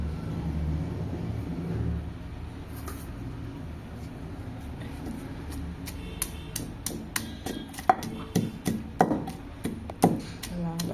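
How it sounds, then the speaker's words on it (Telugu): Onion pounded with salt in a mortar for a no-oil chili chutney: a run of sharp, rhythmic thuds that grows denser and louder toward the end, with a voice talking softly underneath. "దంచుకోవాలి ఈ ఉల్లిగడ్డ కూడా"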